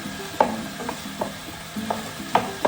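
Figs sauté in a pan: scattered scrapes and light ratcheting clicks from a utensil turn the fruit over a soft frying hiss. The sound is close, moderately quiet and carries no voices.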